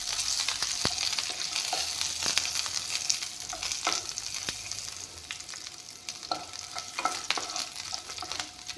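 Panch phoron, bay leaves and garlic fry in hot oil for moong dal tarka, with a crisp sizzle, irregular clinks and scrapes of a stirring spoon, and close, moderately loud sound with no talk.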